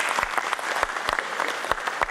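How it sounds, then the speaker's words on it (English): Steady applause from an audience honouring exhibitors at an event, dense continuous clapping with sharper individual claps standing out, no voices over it. "a huge round of applause to all our exhibitors"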